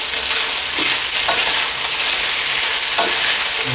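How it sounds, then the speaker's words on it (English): Lamb chops sizzle and crackle steadily in a hot pan over turned-up heat, with a few sharp scraping stir strokes as the meat is tossed, no talking. "And quick stir fry"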